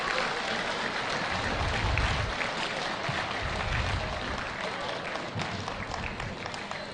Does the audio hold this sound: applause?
yes